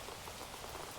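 Recorded rain played back, a steady dense patter of drops on a surface, even and continuous throughout with no voices over it.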